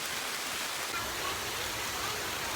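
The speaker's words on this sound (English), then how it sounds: "as you can hear, it's raining" Steady outdoor rainfall hisses as a broad, even wash of sound near a mineral block in the woods, with no distinct drops standing out.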